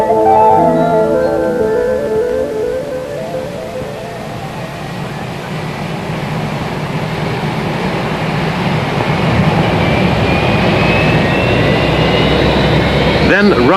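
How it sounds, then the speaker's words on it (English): Steady roar of four Boeing 747 jet engines running in snow and freezing temperatures, 1969, broad and continuous throughout, with a rising whine building toward the end. "In spite of snow and freezing temperatures, engines are motored."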